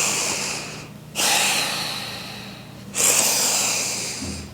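Quick forceful yoga breaths, two sharp nasal exhales in rhythm with steady inhales between them, close and loud, with no talking.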